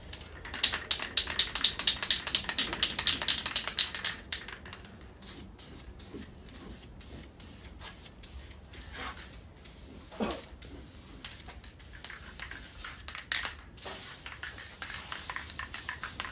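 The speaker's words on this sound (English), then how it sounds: "That's just how I paint this stuff. As long as it's an even coat." Blue paint is sprayed onto a Chevy engine in short, hissing bursts, strongest at first and then fainter and intermittent amid small clicks and handling noise.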